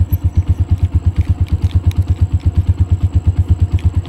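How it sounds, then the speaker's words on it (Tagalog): Motorcycle engine running in a short test before a mountain ride, with a loud, close, rapid regular thumping pulse that holds steady from start to end. "subukan muna natin tong motor."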